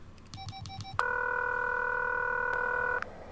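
A phone in the horror video game The Coma 2 makes a few short dialing beeps, then gives one long steady electronic ring tone that cuts off, heard clearly over a quiet background.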